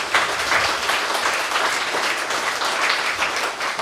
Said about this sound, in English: Let's say a round of applause, thank you, Sue